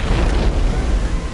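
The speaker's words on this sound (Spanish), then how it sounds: "Oí 4 explosiones distintas y pensamos que eran las calderas." A short, loud, rumbling boom with heavy low-end roar, sustained and distorted for about a second.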